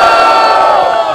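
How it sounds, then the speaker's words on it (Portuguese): A loud, dense crowd at a Brazilian freestyle rap battle, Batalha da Aldeia in Barueri, São Paulo, roars and cheers continuously at close range, a steady wall of shouting voices. "eu quero muito barulho e respeito pra as rimas de Nego Drama"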